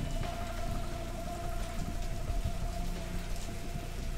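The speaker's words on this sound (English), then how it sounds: "Yo, that's like torrential rain." Heavy, steady rain in a zombie video game pouring down, a dense continuous roar of water with no letup.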